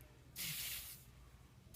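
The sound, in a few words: spraying texturizing backcomb spray into hair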